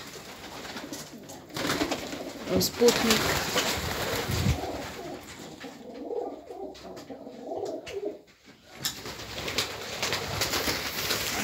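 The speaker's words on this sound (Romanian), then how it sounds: "Iar aici am restul porumbeilor." Pigeons cooing in a loft, soft repeated low coos against a rustling, fluttering background, with a brief spoken phrase nearby.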